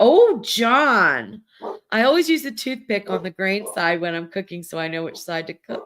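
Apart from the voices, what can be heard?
No everyday noises stand out.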